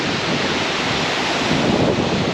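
A waterfall in the Altai Tavan Bogd mountains roars as a loud, continuous rush of falling water, with some wind buffeting the microphone.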